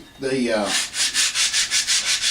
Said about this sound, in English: I'm just getting my side sanded a little bit here